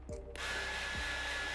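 A hairdryer tool in a video game switches on and blows with a steady, broad whoosh that continues without a break, preceded by a short click and a faint lower start-up sound.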